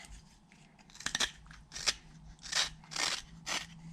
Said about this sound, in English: It starts to tear out, so I do a pull cut.